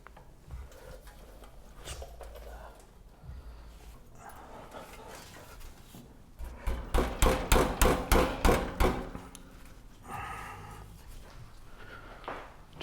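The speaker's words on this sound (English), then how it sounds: "Try a hammer here," A hammer strikes the exhaust of a 2022 Ducati Streetfighter V4 SP to loosen it for fitting an SC Project CR-T, giving about eight quick sharp metallic blows in a row, with quieter shop noise before and after.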